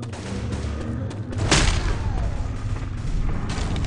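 Gunfire and explosions in the video game Dark Tower Gunslinger, a dense rumble of shots with a sharper burst midway, no voices.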